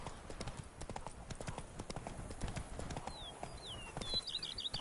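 Roach the horse gallops in The Witcher 3, hoofbeats drumming in a fast steady rhythm, fairly faint under a rushing background, with a few bird-like chirps near the end.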